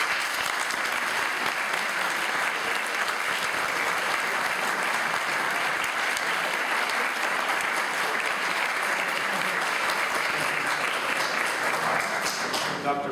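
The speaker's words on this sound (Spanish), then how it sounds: "quiero pedirles a todos ustedes un aplauso para ella." Sustained, dense audience applause filling a university lecture hall in Lima, Peru, loud and even from start to finish with no letup.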